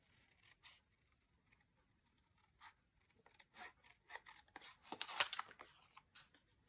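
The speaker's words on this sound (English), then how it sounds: "I'm going to fussy cut him out." Scissors fussy cut a stamped and colored paper bunny out of card stock, close and quiet, with irregular short snips and rustling paper that come faster and louder toward the end.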